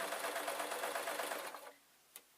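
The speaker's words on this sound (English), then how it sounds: "So I'm just sewing" A sewing machine runs in a fast, even whir as it stitches fabric for ghost bunting. The motor stops after about a second and a half, followed by a single small click.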